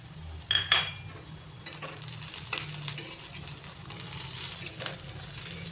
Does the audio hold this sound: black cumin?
yes